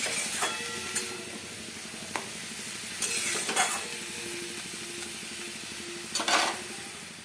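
Tender leafy greens hit hot oil with a steady broadband sizzle, punctuated by a few sharp clinks and brief scraping bursts of stirring, close and alone with no voices.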